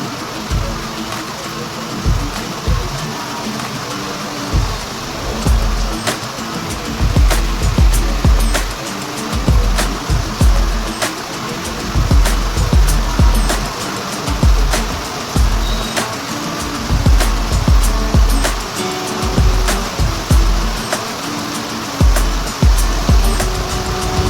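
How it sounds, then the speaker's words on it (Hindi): Heavy rain pouring down steadily, a loud dense hiss with frequent sharp drips and splats on hard surfaces repeating throughout, continuous and close with no voices. "गाइस आज बहुत बारिश हो रही है"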